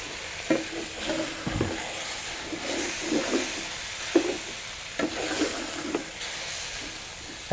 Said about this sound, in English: I first add my tomatoes, and I will now stir fry